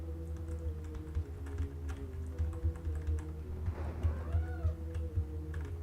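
A pet cat gives a short rising-and-falling meow midway through, heard close over steady computer keyboard typing and a constant low electrical hum in a quiet room.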